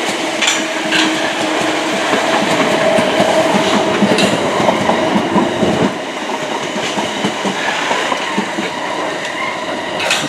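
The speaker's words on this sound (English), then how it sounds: "I can tell this train's running on empties." An empty train passes a footbridge at Wimbledon heading toward London Waterloo, its rolling rumble and rhythmic wheel clatter loud and steady throughout, with brief metallic squeals over the passing carriages.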